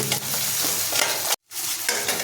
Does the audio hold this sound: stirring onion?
yes